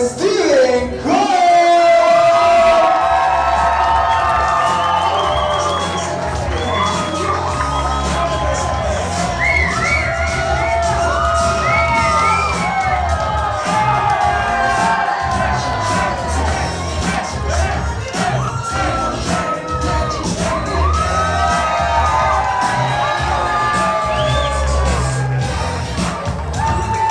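Wedding guests cheer and whoop as a newly married bride and groom are welcomed, loud crowd shouts and excited voices rising over music for a long stretch.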